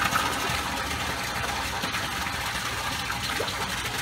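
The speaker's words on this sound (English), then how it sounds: "I can pump some salt water directly into the tank." Pump pushing salt water from a mixing station into an aquarium tank, a steady, fairly faint gushing hiss of flowing water over a low motor hum, continuous and unchanging with no talking.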